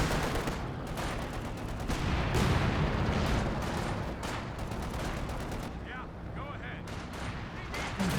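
Stuka walking barrage and gunfire in Company of Heroes 2, a dense, continuous wash of overlapping explosions and rattling shots at steady loudness, with speech mixed in over the battle noise.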